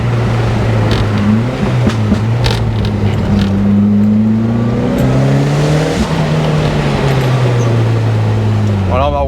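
A Ford Escort RS Cosworth drives along a rally special-stage road near Saint-Étienne, its engine note rising and falling through gear changes as it cruises close up, with talk over it.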